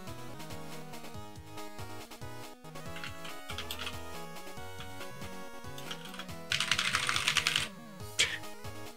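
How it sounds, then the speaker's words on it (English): Computer keys clatter in quick irregular bursts, with a louder flurry of typing near the end, all playing under background music. "Keyboard noises."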